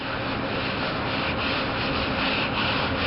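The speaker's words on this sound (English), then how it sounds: "That just helps to really rub it in the pores where the broom actually pushes over." A broom scrubbing powdered concrete cleaner into a concrete bank drive-thru surface makes a steady, close, abrasive rubbing and scraping hiss, continuous and fairly loud, with no speech.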